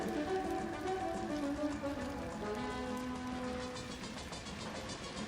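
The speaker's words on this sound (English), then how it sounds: "Oh, it's drizzling." Light drizzling rain falls steadily, a soft continuous patter with faint low rumbles under it and no voices.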